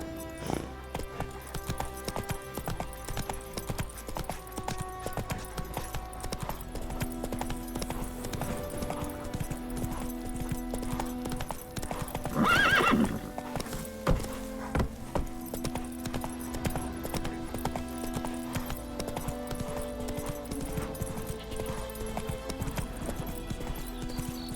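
A horse in The Witcher 3 gallops with a steady, continuous clip-clop of hooves over a sustained game music bed, with a brief neigh or whinny near the middle.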